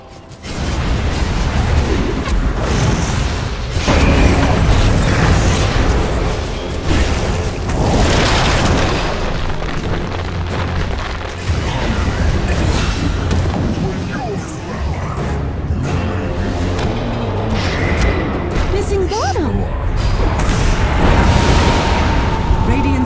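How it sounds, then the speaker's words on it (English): Loud, dense booms and bursts from a Dota 2 match as a tower comes under attack, continuous heavy rumble with layered impacts and mechanical crashes throughout. "Radiant's top tower is under attack."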